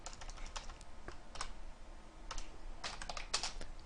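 Someone types on a computer keyboard while writing C++ code, producing quick, uneven bursts of soft clicking keystrokes close by with short pauses between them. The typing is quiet and there is no speech.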